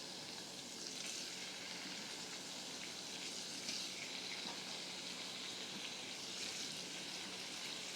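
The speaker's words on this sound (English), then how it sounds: "And then we'll put our beef in." Half a ribeye steak frying in a pan gives off a steady, loud sizzle that fills the whole stretch without a break.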